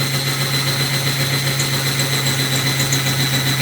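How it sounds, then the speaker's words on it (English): A drill spins a quick-trim die on a brass rifle case, a steady, close mechanical hum with a constant pitch and no pauses or voices. "You drop your drill in the top"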